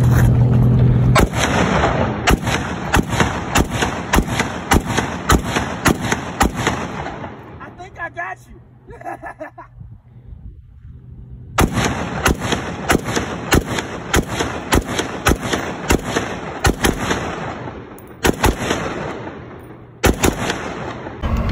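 Rapid bursts of gunfire from a Pioneer Arms Hellpup pistol fitted with a folding brace at an outdoor range, loud sharp shots in quick strings, broken by a short pause of quieter rattling before firing resumes.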